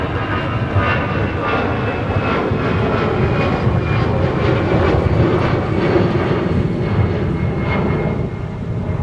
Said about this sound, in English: looks like we have another departure getting airborne soon here. American Flight 3313